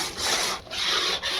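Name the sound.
stirring roasting urad flour for adadiya in a pan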